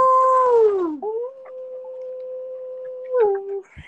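A lone wolf howl, one long sustained tonal wail that dips, holds steady and then falls away, clear and prominent with no talking.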